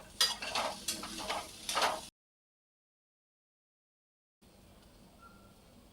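Sabudana usal being stirred in a pan over a low flame, giving a couple of seconds of close scraping and soft sizzling, then a pause of silence before a faint, quiet kitchen background returns.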